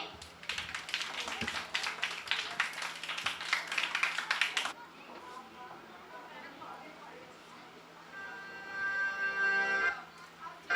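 An audience at a Pakistan Independence Day community event bursts into dense, lively applause for about five seconds. It then cuts off abruptly into quieter sound with a sustained tone and voices.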